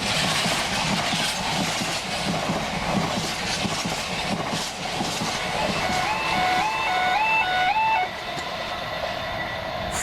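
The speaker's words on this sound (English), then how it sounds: "That means there's a train coming." A train rumbles past nearby with a steady roar and clattering wheels, while a level-crossing bell or warning tone rings repeatedly toward the end.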